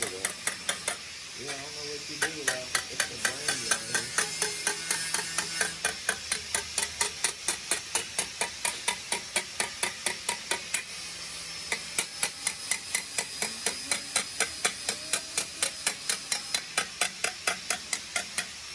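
A metal hammer beats sheet metal during fabrication, its sharp ringing blows in a steady, rapid rhythm of roughly two strikes a second, loud and close, keeping on with only brief pauses.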